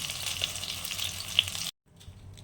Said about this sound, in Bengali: ফোড়নে দিয়ে দিচ্ছি একটা তেজপাতা একটু গরম মশলা দারচিনি আর এলাচ